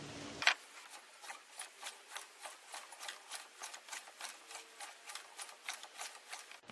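A small engine from a cheap used welder being turned over slowly by hand, giving a steady train of soft, rhythmic rubbing swishes about three per second after a brief clunk at the start, close but quiet.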